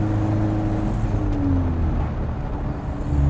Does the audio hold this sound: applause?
no